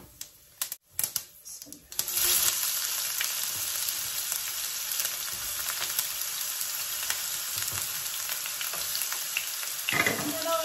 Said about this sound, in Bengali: সামান্য পাঁচফোড়ন দিলাম